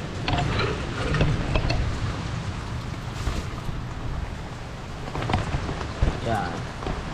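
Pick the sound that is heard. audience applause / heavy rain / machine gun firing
heavy rain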